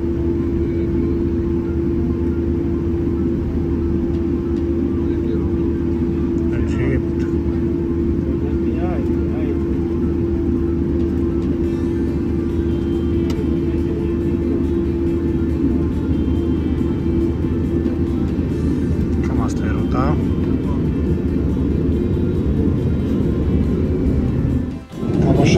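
Steady, loud airplane cabin engine drone during a flight, a constant low rumble and hum filling the whole stretch, with a voice talking over it near the end.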